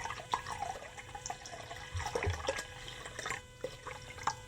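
Liquid pours from a bottle in a soft, gurgling trickle with scattered small splashes and drips, quiet and close with no talking.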